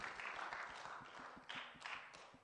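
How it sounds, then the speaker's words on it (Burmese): Soft, steady clapping from a group, heard fairly faintly with a few sharper claps standing out toward the end. "လက်ခုပ်တီးပေးကြရအောင်"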